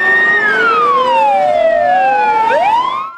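A fire engine's siren wails loudly and close as firefighters drive out to a house fire call, with long rising and falling tones sweeping over the hum of the vehicle.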